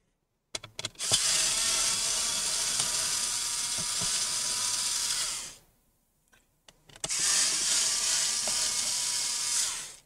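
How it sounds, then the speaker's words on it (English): Screws being removed from a Lenovo Ideapad 3 15IL05 laptop during a teardown, heard up close as two sustained whirring, ratcheting bursts of several seconds each, separated by a short pause. "Remove the three screws."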